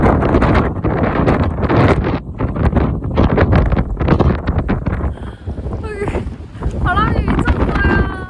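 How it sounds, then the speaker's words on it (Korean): Strong wind gusts loudly buffet the microphone outdoors at a new home in Barcelona, with rough roaring bursts throughout, while people talk over the blustery noise. "어우 바람이 불어요 쌩쌩."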